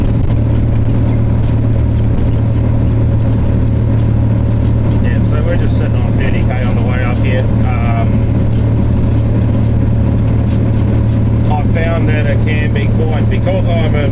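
A truck's engine runs steadily with a deep, loud drone throughout, shifting from 4th gear in the low box up to 5th, the first high gear; the engine note changes during the shift and a voice talks briefly partway through.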